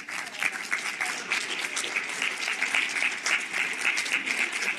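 Audience at a closing plenary conference session breaking into sustained, even applause, a dense wash of many hands clapping throughout.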